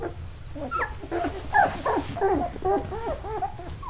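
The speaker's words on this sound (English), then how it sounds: "These are Lilyanna's puppies" Young puppies whimpering and yipping close by, a continuous chorus of high, wavering whines and squeaks rising and falling in pitch, with some overlapping cries and no talk.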